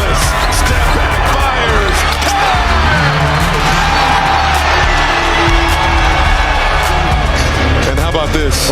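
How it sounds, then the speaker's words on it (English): Arena crowd at an NBA game roaring and cheering after a step-back three-pointer, a loud sustained swell of whoops and yells with an announcer talking over it. "the crowd goes delirious"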